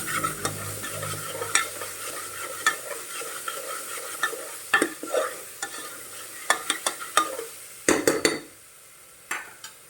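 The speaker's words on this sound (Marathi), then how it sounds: "तर आता हे चांगला मसाला आपण भाजून घेऊया" A masala is roasted for mutton in a pan, stirred with a spoon that scrapes and taps against the metal in irregular bursts, close and clear, over a steady low sizzle of frying that briefly drops away near the end.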